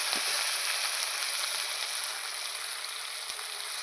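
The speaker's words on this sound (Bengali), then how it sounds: "মশলাটা দিয়ে ভালো করে নেড়ে করে নেব" A spice paste of onion, ginger, cumin and garlic fries with a steady, bright sizzle in a pan for boal fish curry with potatoes, close and continuous with no voices.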